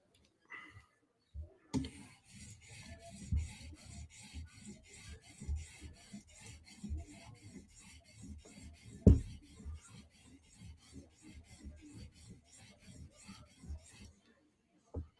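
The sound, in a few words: knife sharpened on an 800 grit stone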